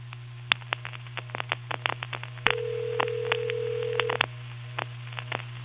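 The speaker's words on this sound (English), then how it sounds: "This time I'll dial 1 plus 212-211-1111." A 1977 all-relay telephone exchange in Pinetown, North Carolina, handling a long-distance dial of 1-212-211-1111: a rapid series of sharp relay clicks and pulses over a steady hum, broken by a sustained tone before more clicks.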